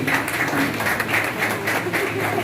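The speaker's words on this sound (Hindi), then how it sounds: "ताली आप लोग बजाते रहिए।" A Bihar gathering of rural medical practitioners keeps up steady, dense applause, a continuous wash of clapping that holds at an even level throughout.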